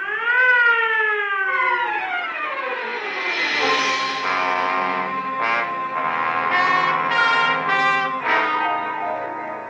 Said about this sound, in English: Clear the way for the ambulance.